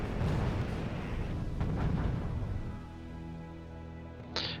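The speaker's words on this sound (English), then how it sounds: "And artillery shooting from behind." Artillery firing in the strategy video game RUSE: rumbling booms roll together for a few seconds, then fade into a low steady hum ending with a sharp click.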